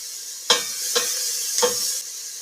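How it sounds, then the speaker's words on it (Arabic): Onions sautéing in a pan before chicken is added, a soft continuous sizzle broken by three distinct scraping stirs of a spoon, close and clear with no talk. "هذا اسمه حوص البصل"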